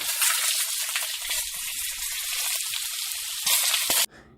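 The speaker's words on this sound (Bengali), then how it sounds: "টমেটোগুলোকে ওই সবজির সাথে 2-3 মিনিট নেড়ে নেব" Chopped tomatoes being stirred and fried with vegetables in a pan for pasta, a steady loud sizzle with scraping stirs, ending abruptly in a quieter hiss.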